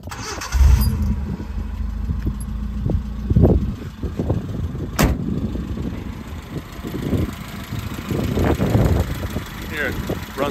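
A 1990 Nissan Sunny Ute, a Japanese import, cranks and fires up, then settles into a steady idle with small revs, heard close by while someone talks over it intermittently.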